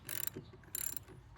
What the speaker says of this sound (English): tighten it up using my